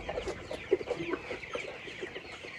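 Several chickens on a poultry farm cluck and murmur close by in a busy, overlapping chorus, with short soft calls repeating throughout.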